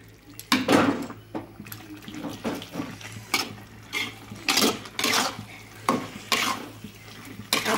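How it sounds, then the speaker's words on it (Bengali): A rice flour mixture is stirred in a wok with repeated scraping and clattering strokes in an uneven rhythm, close and moderately loud, with no talking. "এবারে গুলিয়ে নিয়েছি, চালের গুঁড়ো একটু দিয়ে দিলাম।"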